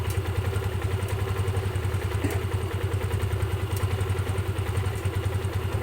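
Motorcycle engine revving up after a valve clearance reset, a steady, loud, full mechanical drone with a fast regular pulse throughout and no ticking.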